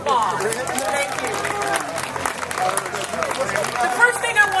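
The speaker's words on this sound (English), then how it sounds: "give him a big round of applause" Festival audience applauding in a dense, steady wash of clapping with crowd noise, sustained and fairly loud throughout.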